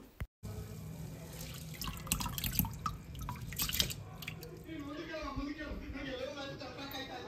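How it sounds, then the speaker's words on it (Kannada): Tap water runs and splashes steadily into a vessel of rice being soaked for neer dosa, a continuous close pouring and dripping sound in a home kitchen with speech-like voices faintly underneath. "ನಾಳೆಗೆ ನೀರು ದೋಸೆ ಹಾಕೋಣ ಅಂದ್ಬಿಟ್ಟು ಅಕ್ಕಿನ ನೆನೆಸಿಡ್ತಾ ಇದ್ದೀನಿ"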